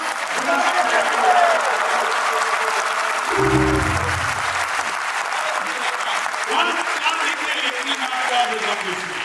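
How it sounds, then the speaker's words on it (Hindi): A crowd at a Hindi poetry event (kavi sammelan) claps loudly and steadily, with a brief low rumble partway through and faint voices beneath the dense applause. "आप लोग जोरदार तालियां"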